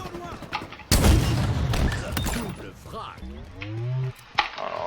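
A legendary weapon fires in Halo Infinite: a loud, dense burst of rapid shots lasting over a second, then mechanical clatter and tonal electronic effects that rise and fade.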